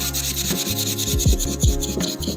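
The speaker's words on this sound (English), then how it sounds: "I'm gonna sand it with 240 all the way around." Burnt wood sanded by hand with 240 grit sandpaper, close, rhythmic rasping strokes back and forth in quick succession with no talking.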